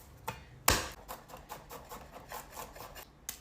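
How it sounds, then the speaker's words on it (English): A knife chops garlic on a cutting board, with one sharp loud strike followed by a string of quicker, softer taps and scraping cuts, close up and with no talking. "Now I'm gonna start by chopping down my garlic."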